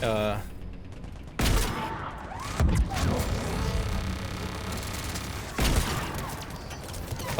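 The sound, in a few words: turret gunfire in Mass Effect 3 video game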